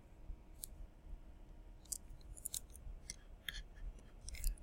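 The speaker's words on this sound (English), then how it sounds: "Let me erase this a little bit." Erasing writing on a board during a math lecture: a few short, scratchy swipes in quick bursts, fairly faint over a low room hum, with no talking.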